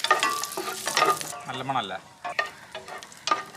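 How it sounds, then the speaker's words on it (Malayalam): Washed cashew nuts fry in hot ghee while a spoon stirs them, a close, crackling sizzle with scraping stirs in bursts, and a person briefly speaks over the cooking. "ഈ നെയ്യിലേക്ക് നമ്മൾ അണ്ടിപ്പരിപ്പ് കഴുകിയത്, അണ്ടിപ്പരിപ്പ് രണ്ടിലും ഇളക്കൽ മഹോത്സവം നടക്കുന്നു"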